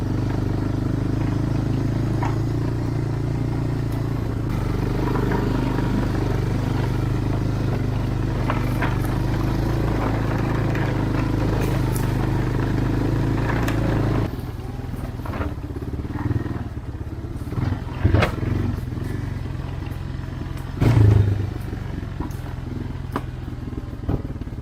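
An old four-wheeler quad bike engine runs steadily close by during a test ride, a loud continuous rumble that shifts tone partway through, with some clatter and scraping mixed in.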